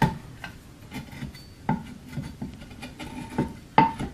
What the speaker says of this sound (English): bent gouge basically on the inside, and kind of work it all down to the surface I want